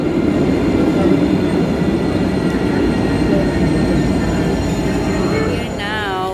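A train at the Davidka station in Jerusalem rumbles steadily and loudly, with rail noise and a faint wheel squeal near the end.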